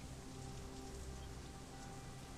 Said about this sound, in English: Foul, oily water rains down from above